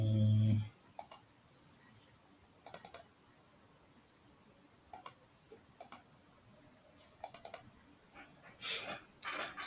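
Computer mouse clicks while working in Google Drive: short, crisp clicks in small bunches of two or three, spaced a second or two apart over a quiet background, with a brief rustle near the end.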